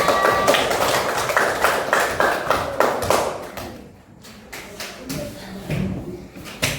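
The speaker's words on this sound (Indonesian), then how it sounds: "Beri tepuk tangan dulu kelompok 2" Fourth-grade elementary classroom students clapping for a group of classmates: close, rhythmic bursts of claps in a patterned beat that pause briefly midway, then resume more softly with voices mixed in.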